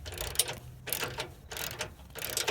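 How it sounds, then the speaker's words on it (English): Ratchet wrench tightening a cam bolt nut on a Nissan Xterra, heard as several bursts of rapid clicking strokes repeating at a steady rhythm, close and fairly quiet, with no talking. "I'm just tightening this nut so that we get to a point where we could adjust it to where we want it."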